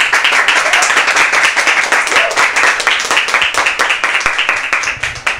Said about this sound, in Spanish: Vamos a dar un aplauso a él.